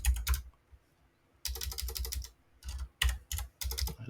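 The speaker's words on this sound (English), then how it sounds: "so typing it out, graphite" Bursts of typing on a computer keyboard, close and crisp, with rapid key clicks in several separate runs and short pauses between them, no voices.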